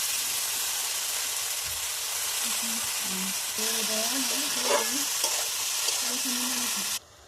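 Greens frying with turmeric in a pan, a steady close sizzle with scraping stir strokes and clinks of a spatula, ending abruptly.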